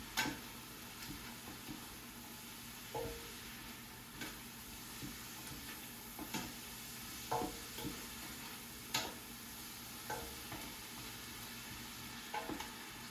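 Beef and garlic browning in a soup pot give a steady, quiet sizzle and frying crackle, with occasional sharp clicks and light stirring knocks scattered throughout.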